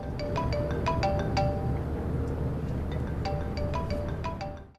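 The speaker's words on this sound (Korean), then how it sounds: "그때 누군가에게서 전화가 걸려옵니다" A mobile phone ringtone for an incoming call in a scene from the Korean film Helpless (Hwacha) plays a repeating melodic pattern of bright tones. It sounds fairly loud and close over a low background hum, with no speech.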